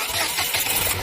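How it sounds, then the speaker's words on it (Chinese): Chery Tiggo 8 with a newly replaced engine at 35,000 km starting up with an abnormal rattling noise, heard as a short, close, steady mechanical churn with no talking. "我的是瑞虎8，启动的时候有异响"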